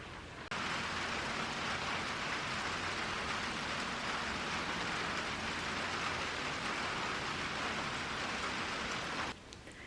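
Heavy rain pours down outside in a steady, dense hiss that starts abruptly, holds at an even level for several seconds, then cuts off.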